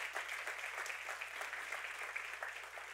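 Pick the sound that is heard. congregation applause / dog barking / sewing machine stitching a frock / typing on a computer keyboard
congregation applause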